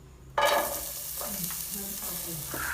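Chopped onion hits hot oil in a pan for a pasta sauce and bursts into a loud, steady sizzle that holds throughout, with faint stirring scrapes beneath it.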